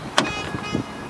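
A power window motor on a 2005 Ford F250 Lariat truck whirs briefly after a sharp click, a short electric hum inside the cab.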